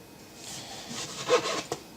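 A knife saws through a tomato in repeated soft slicing strokes, close and fairly quiet, with a sharper cut near the end, preparing slices to layer in a pan for a zucchini, potato and tomato bake.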